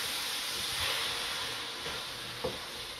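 Tomatoes and fresh ginger cook in a pan for a keema and potato curry, giving a steady close sizzle with a couple of brief utensil clinks.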